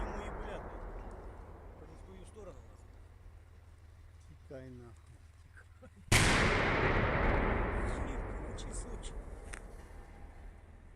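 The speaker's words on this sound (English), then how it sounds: "We now hear the tank firing again" A Russian tank's main cannon fires a single loud blast midway in a forest, its roar decaying slowly over several seconds, after quieter background rumble and faint talk.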